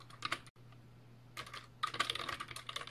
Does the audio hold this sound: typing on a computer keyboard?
yes